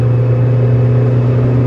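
A Peugeot 206 engine fitted with three electric superchargers runs at a steady, loud, humming drone, close up, with no talking.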